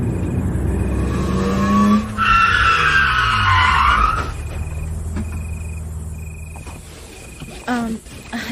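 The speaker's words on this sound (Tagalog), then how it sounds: "Bakit tumigil ang sasakyan natin?" A car skids to a stop on a road at night, a long tire squeal rising and falling for a couple of seconds over engine rumble, then the vehicle idles as insects chirp faintly around it.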